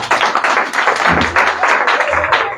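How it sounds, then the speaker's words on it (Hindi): An audience clapping at a talk, a dense run of overlapping hand claps at steady volume across the whole stretch, close and fairly loud. "कुछ लोग समझ गए तो ताली बजा रहे हैं"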